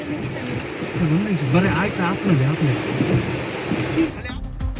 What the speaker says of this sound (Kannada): ಕೊಡಗು ಜಿಲ್ಲೆಯಲ್ಲಿ ಮುಂದುವರೆದಿದೆ ಮಳೆ ಅಬ್ಬರ